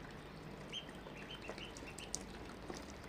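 Duck quacks in a domestic outdoor setting, several short nasal calls scattered over a constant background hiss, moderately distant and fairly faint, with no voices.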